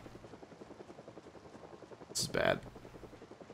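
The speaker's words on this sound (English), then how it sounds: "Helicopter's here already." Project Zomboid helicopter passing overhead, a soft, rapid rotor pulse running steadily in the background while a voice speaks briefly over it near the middle.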